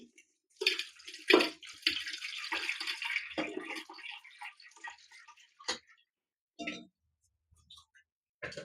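Tap water runs in bursts while tomatoes are washed by hand, splashing and trickling near the mic with short pauses and a few drips toward the end.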